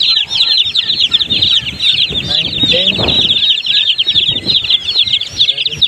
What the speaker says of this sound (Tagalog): yung ating 15 pieces na sisiw na 45 days old